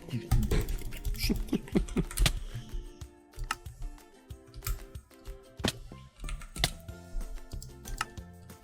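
Keys on a computer keyboard clatter in quick irregular bursts and single taps, close by, with pauses between clusters.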